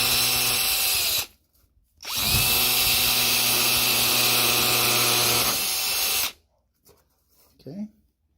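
A small drill bit, 110 thousandths in size, bores into a part of a 727 Torqueflite transmission during a Transgo shift kit install, whining loudly in two steady bursts separated by a short pause, with brief quiet handling noises after.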